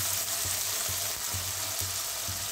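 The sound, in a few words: bay leaf sizzling in hot oil with ground coconut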